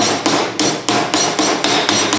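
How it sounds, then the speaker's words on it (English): Hammer striking metal wingtip ribs on an aircraft build, eight or nine sharp, loud, evenly spaced blows ringing out, with no voices. "So from here, we'll just finish those off with a hammer here."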